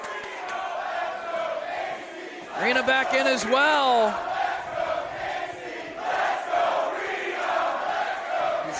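At a women's wrestling match, the crowd cheers and chants, split down the middle, under a commentator's play-by-play, with a swelling burst of rhythmic yelling in the middle.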